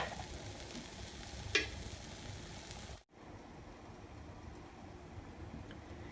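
A Spanish omelette fries in a pan while its second side cooks, giving a steady, moderate sizzle throughout, with a brief clatter near the middle and a short dip in the sound around three seconds.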